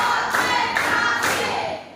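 Schoolchildren clap together in a patterned class cheer, a series of sharp group claps falling in short, evenly spaced bursts across a roomful of hands.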